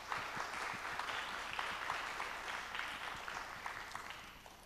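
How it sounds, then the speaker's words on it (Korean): Steady applause from a crowd at a graduation ceremony after a student performance, dense clapping at moderate distance that gradually tapers toward the end. "큰 박수 부탁드립니다"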